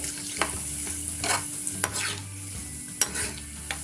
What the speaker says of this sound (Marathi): हे असं कडक तळून घ्यायचे